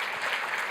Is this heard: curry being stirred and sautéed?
no